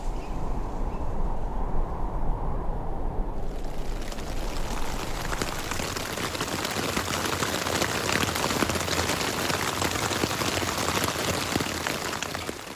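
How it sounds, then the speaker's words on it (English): Steady rain falling through the night on a bush stealth camp during a long cycle tour, a dense continuous patter that grows fuller and brighter after the first few seconds, with no voices. "Rained all night."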